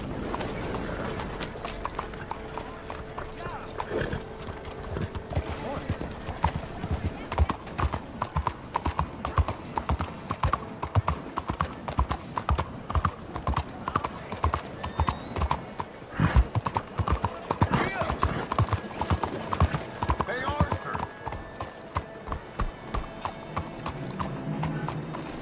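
Rapid clip-clop of horse hooves galloping steadily and close in Red Dead Redemption 2, with an occasional whinny and faint mechanical clatter in the background.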